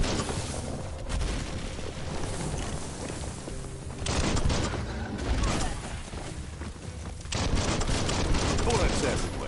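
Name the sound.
gunfire in the video game Biomutant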